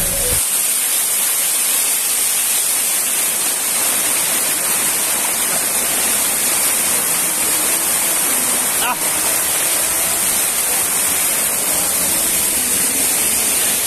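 Banahaw Falls, a tall waterfall with straight-falling water, roars loud and steady without pause, a dense broadband rush close by throughout, with no voices heard.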